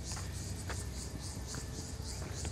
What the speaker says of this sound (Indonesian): Tuh, kalian dengar jangkrik kan?